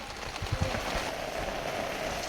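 Rain falling steadily outdoors during Tamil village cooking of a fish curry, a continuous dense patter with a few heavier drops early on, close and fairly loud throughout.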